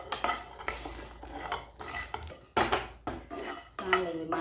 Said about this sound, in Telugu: లవంగ, కొబ్బరి అండి, గసగసాలు లైట్గా అట్లా కొంచెం ఫ్రై చేసుకోవాలండి,